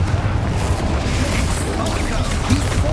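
Bombarda and Confringo explosion spells in the Hogwarts Legacy video game: a dense, loud, continuous rumble of booming blasts and crackling debris, with a voice speaking over it.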